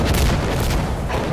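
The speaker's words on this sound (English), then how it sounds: "When do the rockets stop?" Rocket explosions in a video game: a dense, continuous low rumble of booms and blasts, loud and close, filling the whole moment without any clear pause.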